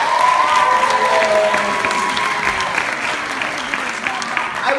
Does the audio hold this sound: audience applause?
yes